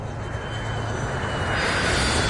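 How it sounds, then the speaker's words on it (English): Landing plane in a radio drama set at Heathrow: a steady, loud roar of aircraft engine noise that swells slightly near the end, with no voices. "Only a runway and a plane. A landing plane."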